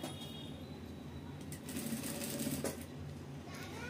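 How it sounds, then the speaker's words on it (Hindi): A sewing machine runs steadily while stitching a straight seam on blouse fabric, a close, even mechanical whir that swells slightly midway with no talking. "हम जो है इसको पूरी सीधी सिलाई लगाते हैं"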